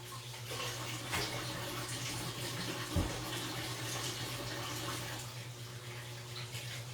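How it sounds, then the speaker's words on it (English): Tap water runs steadily into a kitchen sink while hands are washed clean of egg, a continuous close splashing rush with a brief thump partway through. "Give your hands a nice little wash."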